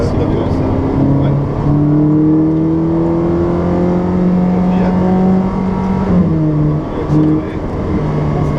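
A Ferrari 458 Speciale on a racetrack, its engine loud and close, holding a strong whining tone that rises and falls as it accelerates and eases off through most of the stretch.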